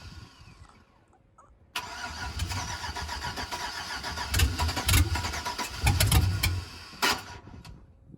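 A Chevrolet Suburban donor truck for an all-wheel-drive Trans Am build cranks and fires up for the first time, then runs rough and loud with uneven surges and a few sharp bangs.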